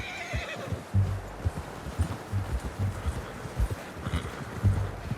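Horse in Red Dead Redemption 2 gives a clear whinny at the start, followed by steady clip-clop hoofbeats on soft ground, moderately close, no talk.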